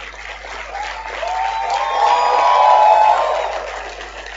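A conference audience applauds at length, with loud, continuous clapping that swells toward the middle, joined by whistles and cheers.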